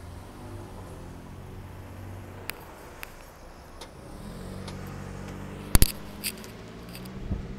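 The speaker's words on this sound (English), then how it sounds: "Here comes another car." A car passes on a city street in Los Angeles during an afternoon walk, its engine and tire noise swelling gradually from a distance, with a few sharp clicks and footstep knocks over it.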